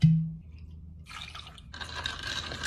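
A short burst of a Nowadays functional beverage splashing into a glass for a mocktail, followed by a soft steady trickle and fizz, close up with no talking.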